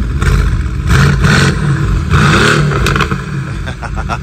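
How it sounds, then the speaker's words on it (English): A 2023 Toyota Supra with a 3.0-litre turbocharged engine revs loudly up close in several surges, its deep growl rising and falling with a rattling clatter between blips. "Oh yeah, it's spooling. You can hear the turbos."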